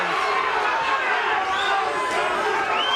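Boxing crowd at the Kostya Tszyu versus Diobelys Hurtado fight roaring and chanting for a fighter, a loud continuous crowd noise with a commentator talking over it.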